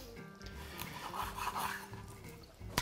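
A knife cuts corvina fish into small pieces for a potato casserole, making quiet, soft rasping strokes that run together, with a sharp tap at the end.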